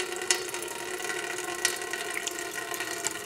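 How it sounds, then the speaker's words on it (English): A water pump on an Essex hot air Stirling engine runs with a steady mechanical clatter and ticking, close and continuous, with splashing water mixed in. "So I've just turned the pump on."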